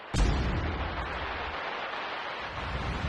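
A sharp burst followed by a sustained, rumbling crackle of a fireworks sound effect from the multitrack stems of a song, filling the space and trailing off slowly, with no voices.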